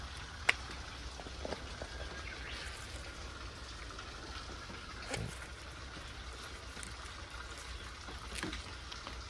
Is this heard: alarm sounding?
no